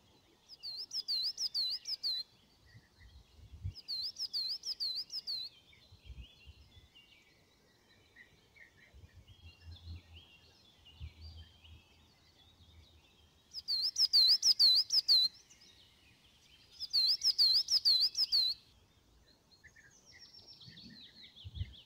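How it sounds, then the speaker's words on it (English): Songbirds chirp in woodland beside Hazar Lake in repeated bursts of high, trilling calls, about four clear phrases separated by quiet pauses, with faint low rustles in between. "Various bird sounds are heard from around."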